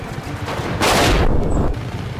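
A short burst of loud gunfire from the video game Just Cause 3 erupts in the middle, a dense crackling blast lasting about a second, set against a low, rumbling background.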